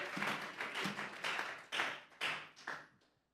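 A church congregation claps as an offering of praise to God during a sermon, producing several loud bursts of applause in uneven waves that fade out quickly at the end.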